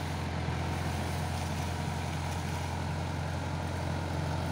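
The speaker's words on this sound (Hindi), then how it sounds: "यहाँ से अभी ट्रैक्टर को घुमाएगा" A tractor-mounted hydraulic road sweeper's engine runs at a steady, low idle-like drone, even and continuous, with no speech over it.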